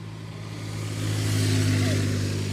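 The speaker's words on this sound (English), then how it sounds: "That is a loud-ass smart car." A loud smart car revs near a ship-spotting spot on the Westerschelde in the Netherlands, a droning engine note that swells louder partway through and stays steady at its peak.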